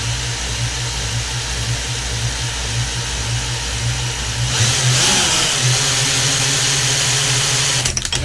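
A line winder spools fishing line with a steady, loud mechanical motor drone and a constant low hum running throughout, its pitch shifting slightly partway through and ending with a few clicks.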